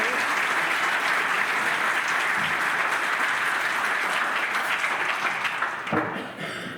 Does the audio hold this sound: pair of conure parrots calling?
no